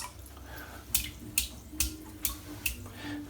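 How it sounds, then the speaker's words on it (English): A shaving brush dipped and swished in a tub of water gives a run of wet splashes and drips, about five close, distinct sloshes at a steady rhythm with no talking. "So let's get the brush dipped in the water"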